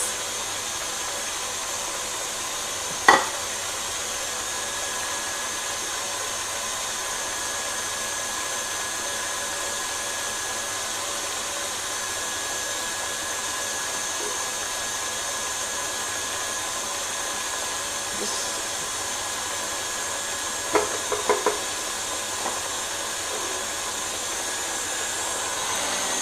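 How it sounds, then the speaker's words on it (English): An electric mixer set on high speed whisks cream toward stiff peaks, a steady unbroken motor whir that runs for the full length, broken by a sharp knock early on and a few small clatters later. "So that's turned up now, and that will whisk away until it reaches nice stiff peaks."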